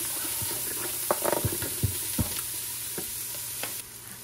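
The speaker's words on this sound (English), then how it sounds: "I'm gonna go ahead and just dump in my onion now" Onion and garlic fry in hot oil while a utensil stirs them, giving a continuous sizzle broken by scattered scraping and clicking knocks, close and moderately loud, with no voices.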